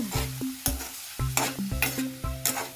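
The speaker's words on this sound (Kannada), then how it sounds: "1-2 ನಿಮಿಷ ಟೊಮಾಟೊ ಕೂಡ ಫ್ರೈ ಆಗಬೇಕು." A spoon scrapes and knocks repeatedly in a pan as tomatoes fry for a chickpea palya, with rhythmic metallic stirring strokes over a soft sizzle and no voices.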